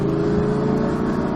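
Audi R8 V10+ engine holding a steady, loud, smooth high-revving drone on a track, close and continuous with no talk over it.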